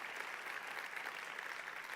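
Church congregation clapping during a sermon, a brief burst of dense, steady applause heard from a distance at fairly low level, with no talk over it.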